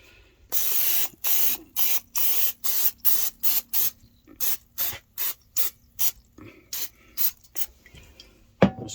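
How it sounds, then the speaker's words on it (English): Cooking spray from a can hissing onto a counter in a home kitchen, about a dozen short bursts in a quick irregular rhythm, loud and close, with no talking. "Just give it a good heavy spray with that."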